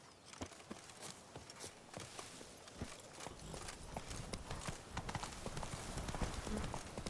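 Hooves of the horse Roach in The Witcher 3 clip-clop at a walking pace, close and clear, with a faint scrape of ground beneath and no talk over it.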